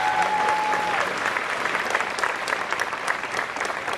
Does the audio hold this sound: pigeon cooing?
no